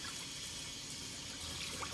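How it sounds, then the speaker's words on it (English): Cannabis cuttings get rinsed in sink water, a soft, low trickling and splashing that runs faintly and steadily throughout. "Give them a good rinse, and then into the bleach water."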